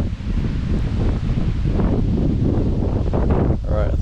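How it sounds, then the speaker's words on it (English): Strong wind gusts across an outdoor churchyard in Snowdonia, buffeting the microphone with a loud, rumbling roar and rustling throughout. "I think it might be time to go before that wind gets any worse"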